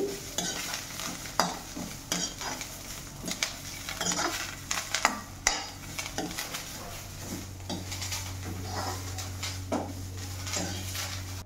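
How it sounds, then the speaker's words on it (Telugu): Fresh curry leaves frying in a pan with oil, a close sizzle under frequent clinks and scrapes of a spoon stirring against metal, with a low steady hum joining toward the end. "ఇప్పుడు కరివేపాకు వేస్తున్నానండి"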